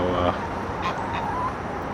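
Ducks quack in short, raspy bursts at close range as a rooster harasses them at night in a backyard flock, with a few scattered calls and background noise.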